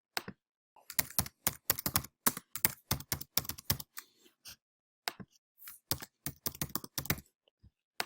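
A street address being typed on a computer keyboard: rapid bursts of crisp key clicks in uneven runs, a short pause midway, then more quick typing, close and clear with no talk.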